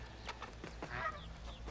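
Bird calls and clucking, fowl-like, from the video game Horizon Forbidden West, several short calls in sequence against a steady background hum, moderately close and clear.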